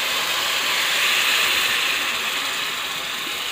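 Milk is poured into a hot pan of bitter gourd curry, giving a dense, steady hissing sizzle close by that swells slightly and then settles.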